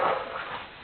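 A dog gives a short, high, thin whimper, close and fairly faint, fading out within a second.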